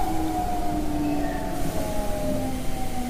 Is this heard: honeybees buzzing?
no